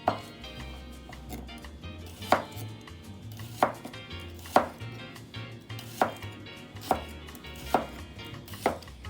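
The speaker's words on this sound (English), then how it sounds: "Next, we're gonna cut up the celery in long lengths." A knife chops celery into long lengths on a cutting board, landing about eight crisp, evenly spaced thuds at a slow, steady rhythm, close and clear with no talking.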